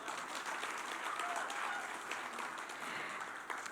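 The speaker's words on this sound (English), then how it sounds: "Can we please have another round of applause?" A crowd at a school inauguration ceremony in Dhaka, Bangladesh, breaks into sustained applause, a dense even wash of many hands clapping at moderate distance that holds steady for a few seconds.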